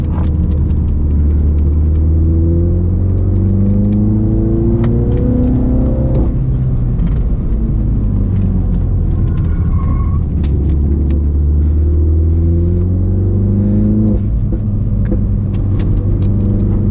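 A Mini Cooper JCW hatchback running a Dinan Stage 1 tune accelerates hard through the gears, its engine note rising in long sweeps with brief dips at each shift, loud and steady from inside the car.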